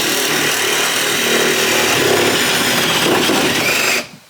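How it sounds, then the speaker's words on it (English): A Sawzall reciprocating saw runs at full power while cutting, a loud, steady buzzing drone heard close up for about four seconds before it cuts off abruptly. "What is that, the Sawzall or whatever?"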